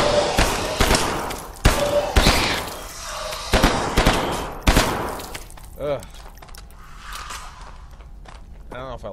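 Gunfire in the video game Hidden Deep comes as several loud, irregular shots and short bursts over the first five seconds. It then gives way to quieter thuds and rustling.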